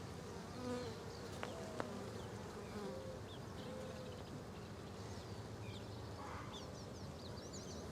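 Honey bees hum at a weak hive with no brood and a struggling queen, a soft, steady buzz with a few faint higher chirps and clicks scattered through it and no talking.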